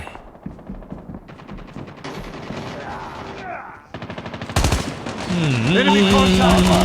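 Rapid automatic gunfire in the mobile shooter Call of Duty Mobile during a Gun Game team fight, dense bursts of loud close shots mixed with game effects and a rising tone near the end, with no talk.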